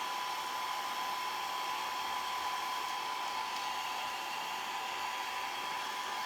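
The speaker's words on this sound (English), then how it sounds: "I'm just drying the back of this now" A hair dryer blows steadily on a craft project, a constant loud whooshing drone with a fixed motor whine that never changes for the whole stretch, with no voices.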